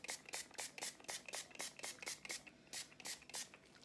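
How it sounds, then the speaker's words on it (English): Quick bursts of a spray bottle pump spraying 91% isopropyl alcohol in a steady rhythm, about a dozen short hissing squirts, close and fairly quiet with no talking. "So I am gonna spray with isopropyl alcohol"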